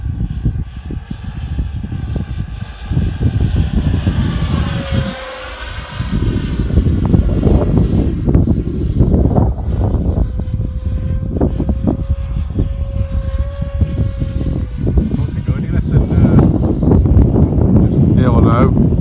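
CMFC Vampire model jet aircraft flying on a very windy day, a steady loud whine with a pitch that shifts as it passes, heard under gusty wind noise and occasional talk nearby.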